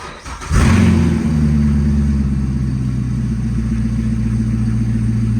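A rebuilt Corvette engine starts and settles into a steady, loud running drone with a strong low rumble, close by and continuing alone for several seconds.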